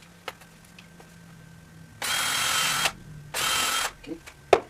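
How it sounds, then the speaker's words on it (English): Two short bursts of a power drill spinning into wood, separated by a pause, with light clicks and handling noises around them. "I have to remove that screw again, so I can drill the hole so it doesn't split."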